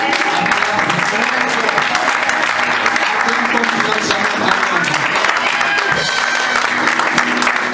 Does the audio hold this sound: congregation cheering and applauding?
yes